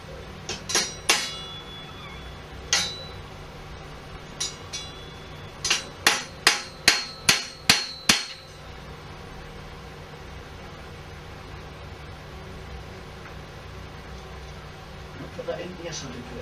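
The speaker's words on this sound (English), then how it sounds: "hopefully I can bang the cotter pin through" A metal hammer drives a cotter pin into a road bike crank in sharp, ringing blows: a few scattered hits, then a quick run of about seven evenly spaced strikes before quiet.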